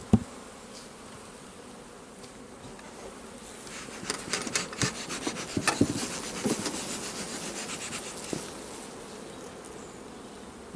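Honeybees buzz in a dense, droning swarm as a hive is opened for its first inspection of the year, with wooden scraping and rubbing sounds from the box rising through the middle, close and steady.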